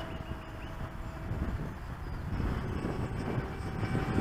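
Ultra-Z Astro Pusher Jet RC plane flying on half throttle in windy weather, powered by a 1500 mAh 3S battery: a steady, moderately loud motor drone that swells slightly as it passes, mixed with wind rumble, with no voices.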